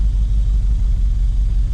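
A 1985 Dodge Ram W150 4x4 pickup with a factory 360 engine idles close by, giving off a steady, deep rumble with a slight even pulse and no revving.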